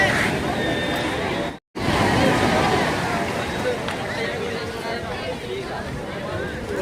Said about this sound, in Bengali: পিছন দিকেও চেঁচামেচির আওয়াজ হচ্ছে বিশাল